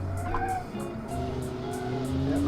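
A 1966-style race car in the Automation car game brakes hard at Road Atlanta, tires squealing briefly over the engine drone as it slows for a corner.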